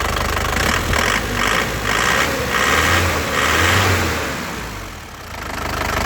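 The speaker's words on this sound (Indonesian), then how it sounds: "Ini nggak ada semua suara itu, jadi suaranya memang masih renyah, khas Panther ya." A black 2013 Isuzu Panther LS Turbo diesel engine idling close up with a steady crisp clatter, and the throttle is blipped several times in rhythmic surges before it settles.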